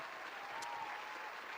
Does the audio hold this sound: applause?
yes